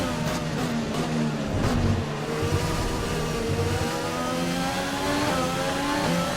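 Formula 1 race cars in the F1 2020 video game, engines roaring continuously and close with rising and falling revs, loud and dense throughout with no talk.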